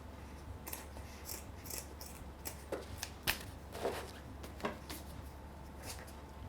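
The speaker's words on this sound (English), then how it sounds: "Trim off your elastic." Scissors snip through elastic while making a Viking shield, a series of crisp cuts and rustling handling noises at close range, spaced irregularly over a few seconds.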